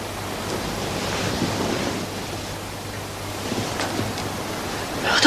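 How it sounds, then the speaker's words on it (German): Soft, distant surf washes in a continuous low rush, gently swelling and easing, with no voices present. "Das ist das Meer."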